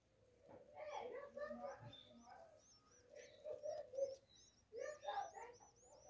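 Rufous-collared sparrow chicks in a nest give high, thin chirps and cheeps in short repeated bursts, close and moderately quiet, with lower voiced sounds mixed in and pauses between bursts.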